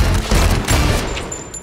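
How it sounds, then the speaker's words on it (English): Gunfire in a Grimsby movie trailer, a dense loud fusillade of rapid shots and booms packed into a brief burst that fades toward the end. "will you stop shooting everything?"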